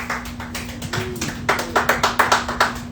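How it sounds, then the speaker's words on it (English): A few people clap at a small comedy night in a joint, sparse and close, the claps growing firmer and more regular toward the end over a low steady hum. "round of applause to everybody that touched Mike tonight"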